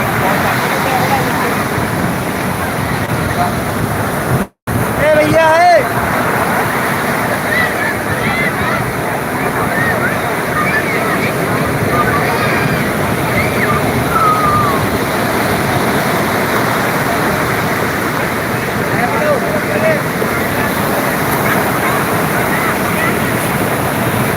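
Sea waves roll onto Laboni beach at Cox's Bazar, Chattogram, making a steady, loud broadband surf roar that continues for the whole stretch, with one brief dropout near the start.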